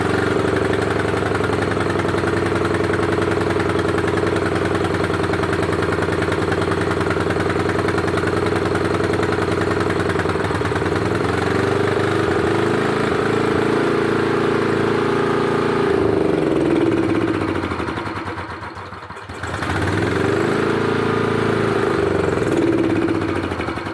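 A Honda GX240 generator engine with poor starting runs steadily at a loud, close idle, its drone wavering briefly and dipping near the end before recovering, with no voices.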